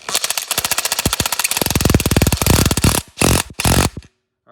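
Pneumatic impact wrench tightening lug nuts on a Weld wheel carrying a big tire, heard as loud rapid hammering bursts of varying length, ending with two short separate rattles and then silence.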